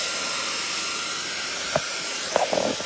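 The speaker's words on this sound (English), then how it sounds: "Let me hit this with the dryer again." Handheld hair dryer drying wet paint, a steady close-up broadband blowing hiss that runs throughout, with a few faint clicks and handling knocks near the end.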